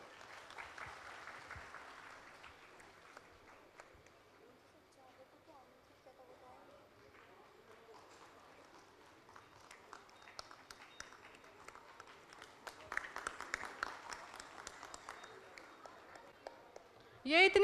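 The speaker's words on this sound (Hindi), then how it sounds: "कृपया तालियों से इनका स्वागत कीजिए।" An audience at a Hindi felicitation ceremony applauds to welcome an honoured guest. The clapping is steady and continuous, with a murmur of voices underneath, and it swells louder near the end.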